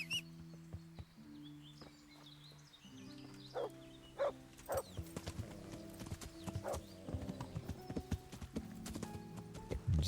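A pony in the medieval game Kingdom Come: Deliverance clip-clops with steady hoof beats at close range, joined by a brief whinny and a few faint bird chirps, and no talk.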